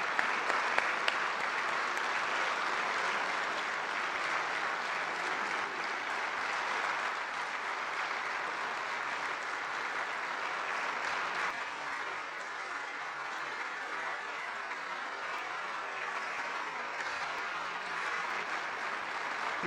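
Sustained, even applause fills the Italian Senate chamber during a standing ovation for a senator for life, a dense wash of many hands clapping continuously, softening slightly partway through, with no talking.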